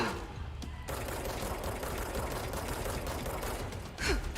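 Laser shots fire in a video game as a dense, sustained crackling barrage with mechanical whirring, fairly close, broken by a sharp burst near the end.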